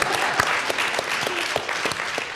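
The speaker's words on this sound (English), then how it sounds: "this man deserves an applause." An audience at an evening event with a chef breaks into applause, a brisk burst of many hands clapping close and even throughout, with a few louder individual claps standing out.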